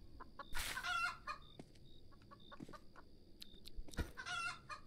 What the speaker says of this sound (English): Oh, there's a chicken. There's a chicken.